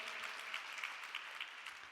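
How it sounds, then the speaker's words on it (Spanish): A church congregation gives a strong round of applause, dense continuous clapping from many hands at a steady level for a couple of seconds, moderately distant, with a faint voice underneath. "Dale un aplauso fuerte al Señor."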